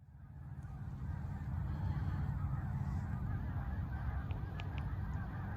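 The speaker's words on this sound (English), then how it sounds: "we were met with the deafening sound of snow geese headed our way" A large flock of snow geese honks continuously in a dense, distant chorus over a steady low rumble at sunrise.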